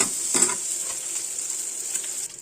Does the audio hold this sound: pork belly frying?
yes